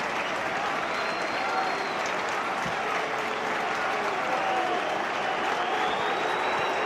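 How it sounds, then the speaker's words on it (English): Home football crowd at Kilmarnock applauding a player as he is substituted, a broad, continuous wash of clapping across the stadium, with faint whistles and murmuring crowd noise mixed in. "he will make way to a round of applause from the home support"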